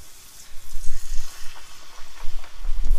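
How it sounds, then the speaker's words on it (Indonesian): Egg for telur geprek frying in a pan of hot oil, a loud crackling sizzle with bursts of popping that swell and ebb, heard close up with no talking. "Kita goreng."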